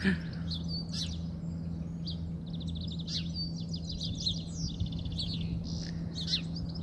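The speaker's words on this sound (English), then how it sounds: "Oh, it's just beautiful, that bird song." Several birds sing and chirp from within bushes, bright trills and tweets repeating through the whole stretch over a steady low hum, moderately near and clear.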